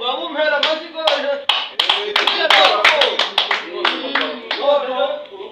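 Scattered hand clapping from a small audience, uneven sharp claps in loose bursts, heard beneath continuous talking voices.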